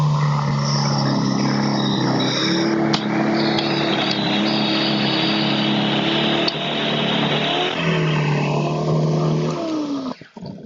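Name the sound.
YERYORK single stage snow blower clearing sidewalk into gravel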